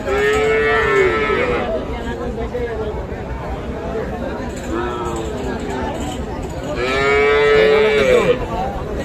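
Young cattle calves mooing at a busy rural livestock market, several drawn-out moos at intervals, loud and close, with voices and crowd babble underneath.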